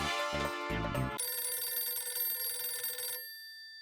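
A landline telephone rings in repeated electronic bursts at home, loud and close, then the ringing stops and only a faint tail remains.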